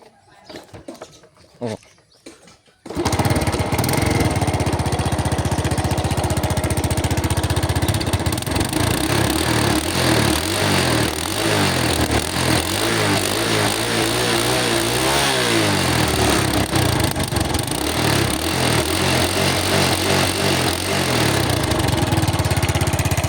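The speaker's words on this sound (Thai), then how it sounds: "เป็นรถร้อยสิบซีซี เดี๋ยวเรามาฟังเสียงกันนะครับ" A 110cc four-stroke Honda Nice motorcycle engine, old and owner-used, starts after a brief quiet and runs steadily up close, a loud continuous chugging idle that rises and revs slightly midway.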